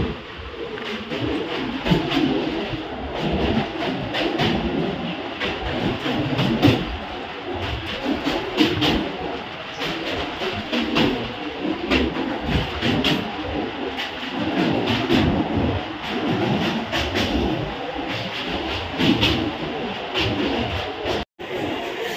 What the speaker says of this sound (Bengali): ট্রেন এখন ঢুকে গেল দেখো বরানগর রোডে।